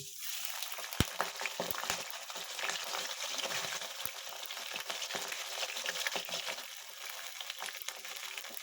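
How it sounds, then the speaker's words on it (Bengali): Prawns frying in a pan with onions and chilli for a prawn and taro stem curry, giving a steady, close, dense sizzle with a few sharp spatters and stirring clicks throughout. "চিংড়ি মাছটা দিয়ে আমি একটু ভেজে নেব।"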